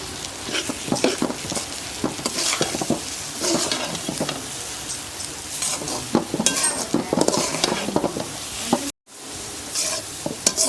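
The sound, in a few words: stirring chana dal in a pan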